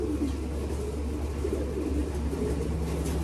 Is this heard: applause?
no